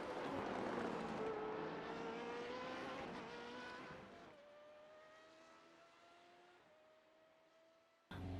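A Formula Renault 3.5 race car engine lapping the Nürburgring in a racing video game, a high whining drone that rises through gears, drops after a shift and climbs again, with a sharp burst at the end.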